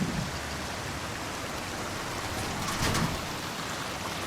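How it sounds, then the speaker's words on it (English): Rain in the VR game Graffiti Bombing VR falls as a steady, even hiss heard from indoors, with a faint swell of heavier patter near the end. "But when you go inside, you can still hear the rain outside"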